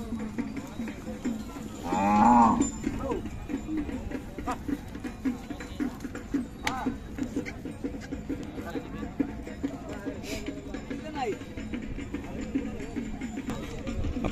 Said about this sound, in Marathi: ही आई आहे, लांबलचक गाय आहे